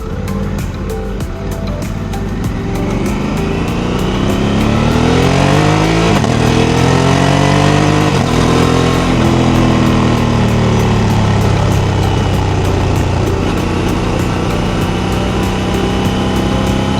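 Motorcycle engine revving and pulling hard while riding, a loud continuous drone with rising and falling pitch sweeps as it accelerates and shifts, close and steady throughout with no talk.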